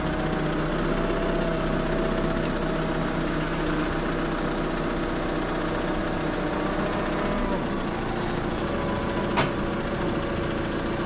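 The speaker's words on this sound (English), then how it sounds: "brought the telehandler out so then we can lift the pipe and lift ourselves up in the bucket" Telehandler engine idling steadily at close range on a farm build site, a continuous low diesel rumble with slight tonal hum, unchanging throughout.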